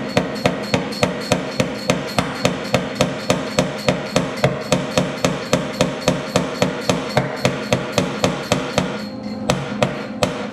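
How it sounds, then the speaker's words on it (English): Rapid, evenly spaced hammer blows on a metal motorcycle seat pan from a Suzuki TS250 during a welding repair, loud and close, about four strikes per second with ringing metallic clanks and no talking. "then we can just take a hammer."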